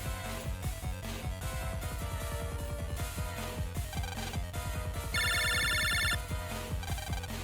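A phone rings in the Mega Man Battle Network 4 video game, a bright repeating electronic trill that rises over steady game music for about a second near the end.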